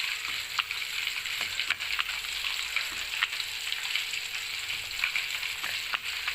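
Mint chutney (pudina pachadi) being mixed by hand: soft, irregular squishing and pressing sounds over a steady hiss, close up, with no talking.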